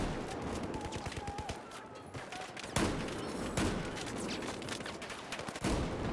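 Gunfire from the video game Claymore crackles in a dense, rapid fusillade of overlapping shots, with a few sharper, louder blasts standing out near the middle and end; no talking.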